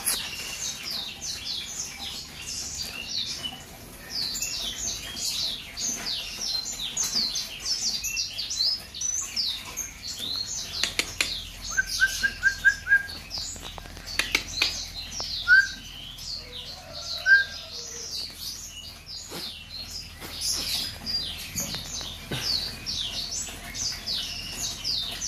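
Aceh white-rumped shamas sing in breeding cages, pouring out dense, high, rapid chirps and whistles that run without a break, with a few louder, clearer notes standing out close by.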